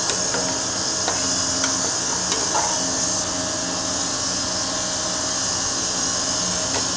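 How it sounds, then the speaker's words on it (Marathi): A stone cutter slicing Kadappa stone slabs at a neighbouring marble shop drones as a continuous whining grind, heard from a distance and carrying steadily through the whole stretch with faint clicks on top. "जे मार्बलचं दुकान आहे तिथे कडाप्पे कट करतानाचा तो आवाज इथपर्यंत येत आहे"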